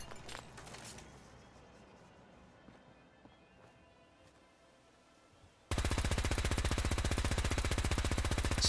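A modded rifle fires in Fallout 4, a sudden loud, rapid run of fully automatic shots starting after a stretch of quiet ambience and continuing to the end.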